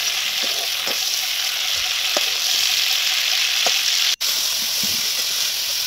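Young jackfruit frying in hot oil gives a steady, close sizzling hiss throughout, dotted with faint pops and crackles, with one brief dropout near the end and no voices.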